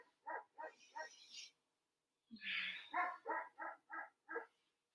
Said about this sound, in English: that's my dog being a total asshole outside